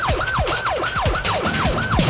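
Loud, close wail of a fire truck siren cycling through quick rising and falling sweeps, about five in a row, as the engine pulls into a cramped alley by a burning building; no one speaks.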